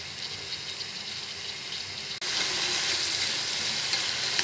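Bitter gourd fries in a pan with a steady, close sizzle that suddenly grows louder and brighter halfway through.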